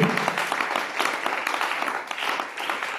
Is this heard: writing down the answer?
no